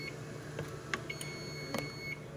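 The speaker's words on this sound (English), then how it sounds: "The 2-minute timer just went off" A kitchen timer goes off during cooking with several short, thin beeps spread unevenly over a steady low room hum, faint and fairly distant, with no talk.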